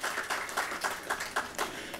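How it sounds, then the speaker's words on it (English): An outdoor crowd at a lights switch-on event at a recreation ground claps in a continuous, moderately loud patter of applause. "Can we give him a round of applause"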